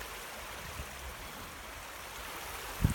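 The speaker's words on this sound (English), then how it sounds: "waterfall there, look." A small waterfall spills into a stream, giving a continuous soft rushing wash at moderate distance, with one brief low knock near the end.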